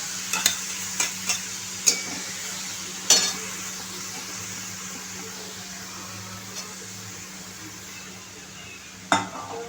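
Grated carrots sautéed in ghee for gajar halwa, a steady soft sizzle under a spoon stirring in a pan, with several sharp clinks of utensil against metal scattered through, no talk.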